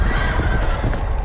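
A horse in a video game neighs over the clatter of its hooves, loud and close, in one short burst.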